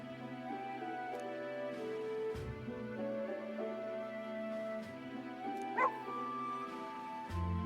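A dog in the video game Metaphor whimpers and yips in a run of short, high, pitiful cries over a continuous background music bed, moderately loud, with no talking.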